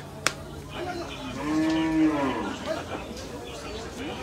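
Cattle moo loudly and close at a crowded livestock market where cows, bulls and buffalo are traded, one long drawn-out call rising and falling over the murmur of people talking nearby.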